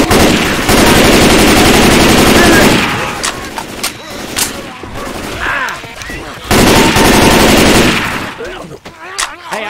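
Loud assault rifle fire in Left 4 Dead 2 rattles in rapid sustained bursts, breaking off in the middle with scattered impacts and faint voices before another long burst resumes.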